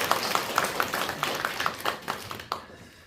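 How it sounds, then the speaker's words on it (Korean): Church congregation clapping during a Korean worship service, a short burst of rhythmic, evenly spaced handclaps in a reverberant hall that fades out after about two and a half seconds. "우리 다시 한번 우리 하나님께 영광의 박수."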